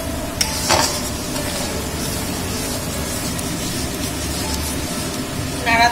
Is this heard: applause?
no